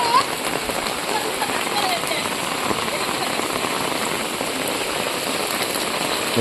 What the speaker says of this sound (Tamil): ஆனாலும் திரும்பியும் மழை பெய்யுது